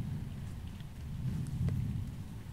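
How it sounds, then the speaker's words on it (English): Steady soft rain on a stormy night, a dense even hiss with faint low rumble underneath, heard close and alone without voices. "only the soft sounds of rain will remain"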